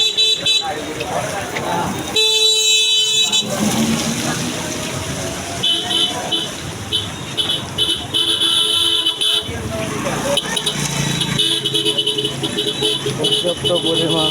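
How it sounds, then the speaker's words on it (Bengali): Jammed traffic on a rainy Dhaka road: car horns toot repeatedly, some long and shrill, over a rumbling background of idling engines, while someone talks through most of it. "কোনো গাড়ি পাচ্ছে না এদিকে রাস্তা জ্যাম"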